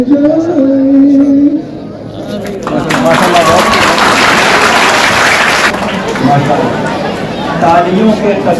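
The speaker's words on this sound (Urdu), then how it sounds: "تالیوں کے تسلسل نے یہ شہادت دی ہے" An audience at a madrasa programme in Varanasi marking Minority Rights Day breaks into sustained, dense applause after a voice speaks over a hall murmur. The clapping swells for a few seconds, then fades back into crowd chatter.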